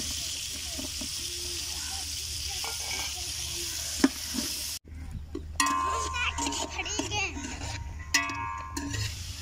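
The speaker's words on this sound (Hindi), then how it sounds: "मटर भुन रहे हैं" Peas frying in a cooking pot outdoors, a steady close sizzle with stirring clatter and spoon scrapes, briefly interrupted midway before the hiss resumes alongside metallic clinks.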